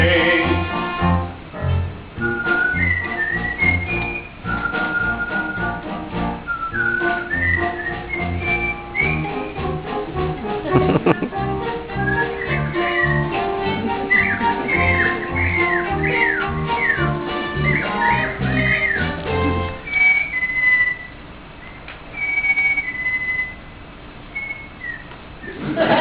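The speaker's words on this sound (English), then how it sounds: "They whistle." Melodic whistling carries a tune over instrumental music, with several whistled phrases rising and falling through the piece, clear and fairly prominent.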